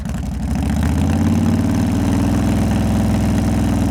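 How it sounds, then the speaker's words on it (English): Motorcycle engine sound effect from a Roblox sound design kit: a loud, close, low throbbing idle with a steady pulsing rhythm that rises slightly as if revving, heard alone. "Great motorcycle sounds."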